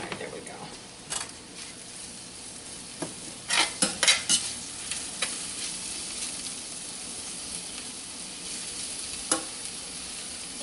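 Ground lamb or beef for moussaka fries in an oiled pan, a soft continuous sizzle with a cluster of utensil clanks and scrapes from stirring, plus a few later knocks, fairly quiet overall.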